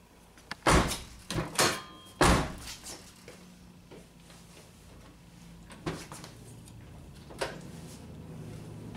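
Several clunky mechanical clicks and thumps from a Honda Accord door lock being unlocked with the door panel off, a quick cluster early on followed by a few sparser clicks.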